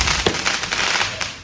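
Diwali firecrackers, including 5-shot and 12-shot ones, set off outdoors during heavy rain: a couple of sharp pops and cracks burst out over a steady, loud hiss.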